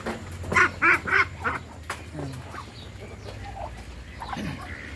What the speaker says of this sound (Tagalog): Ayan mga Muscovy ducks natin.